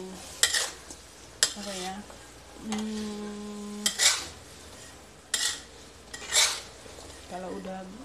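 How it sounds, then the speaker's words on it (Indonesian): Peanuts dry-roasting with fine salt in a pan: repeated scraping and stirring strokes with gritty rattles and metallic knocks of the utensil against the pan, close up, plus a brief spoken question and steady tones. "Disangrai-sangrai sampai ada bunyi, bunyi mateng tuh"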